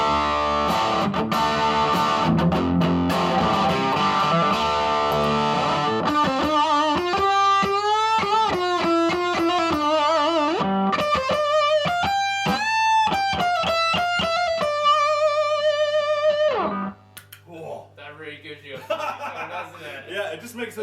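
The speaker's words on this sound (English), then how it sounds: "I've got a lead like kind of sound, which is going to be courtesy of my 78 distortion, like on top of that distorted channel, with my wah" An electric guitar lead played through a 78 distortion pedal stacked on a distorted amp channel with a wah, from a Cabronita-based rig. Loud, sustained fuzzy notes with bends and wide vibrato run for several bars, then cut off abruptly.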